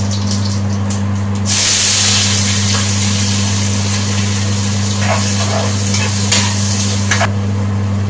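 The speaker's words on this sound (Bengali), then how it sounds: "আমি পেঁয়াজটাকে ভুনবো অর্থাৎ সতে করবো আনটিল টু গোল্ডেন কালার না আসার আগ পর্যন্ত।" Sliced onions hit hot oil in a pan for chana masala and sizzle in a loud, steady hiss, with a constant low hum underneath and a few scraping stirs across the pan.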